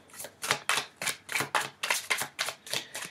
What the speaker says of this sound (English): I am going to just shuffle the cards